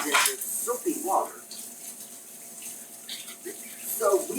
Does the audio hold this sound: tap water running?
yes